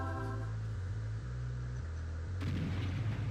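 Artillery fire in a real-time strategy game, a low droning hum with a sudden heavy boom and rumbling crackle near the end.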